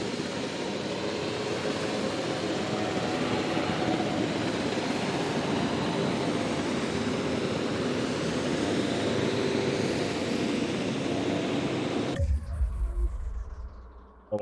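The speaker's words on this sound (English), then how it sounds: "Oh, here comes the helicopters." Helicopters fly over a park in the dinosaur management game Jurassic World Evolution 2, giving a loud, continuous rotor-and-engine drone with no talk, then it drops out sharply near the end.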